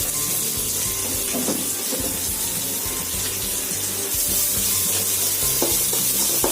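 Ingredients with a little turmeric half-fry in a pan for mint mango rice, giving a steady close sizzle and hiss with occasional soft stirring scrapes and no voices.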